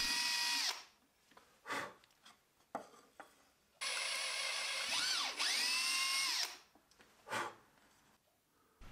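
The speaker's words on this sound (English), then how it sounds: "I drilled a couple of holes in the cleats using a 6mm brad point bit." A power drill with a 6mm brad point bit bores holes in wooden cleats for a floating corner shelf, with two loud sustained whining bursts, pitch dipping under load, between short rubbing and scraping sounds.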